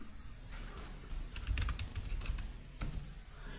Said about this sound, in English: Just type your domain name, then click on check domain.